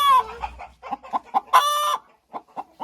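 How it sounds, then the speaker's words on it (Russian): A broody hen clucks in a rapid series of short, close clucks with a couple of drawn-out tonal calls, nothing else audible. "Так, это наша квочка."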